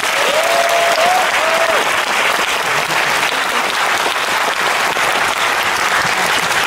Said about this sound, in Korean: 오늘 함께 해주신 우리 황지성 씨 그리고 최현섭 씨께도 다시 한번 큰 박수 부탁드립니다.